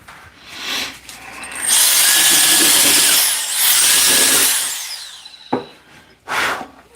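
A carbide tool cuts into a wooden bowling pin spinning on a wood lathe, giving a loud, close, hissing scrape in long sustained passes, broken by brief pauses, a sharp knock and a short final burst of cutting.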